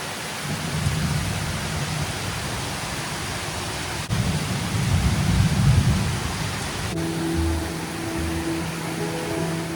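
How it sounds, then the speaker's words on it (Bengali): Heavy monsoon-style downpour pouring over a home garden: a dense, steady roar of rain close by, swelling with a low rumble midway, and a faint tonal hum joining near the end. "বিশাল মুষলধারে বৃষ্টি হচ্ছে একদম।"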